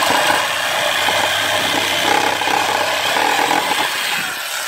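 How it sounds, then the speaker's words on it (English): A jigsaw cuts around the plastic fins of a lead acid battery case, a loud steady buzzing rasp of the reciprocating blade, close and continuous with no talk. "I'm just using a jigsaw."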